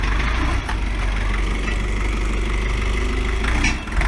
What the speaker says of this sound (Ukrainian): Трактор 4-циліндровий на 40 кінських сил з двигуном ЗН490